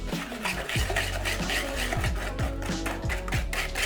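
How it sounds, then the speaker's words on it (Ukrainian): Eggs, sugar and oil being stirred in a bowl, a steady run of scraping and tapping strokes against the sides, close and fairly busy with a few sharper knocks. "Тоді додаємо олію і знову перемішуємо."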